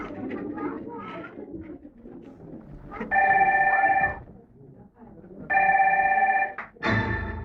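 A telephone rings in two long bursts of bright electronic trilling, each lasting about a second, loud and close, with people talking before and between the rings.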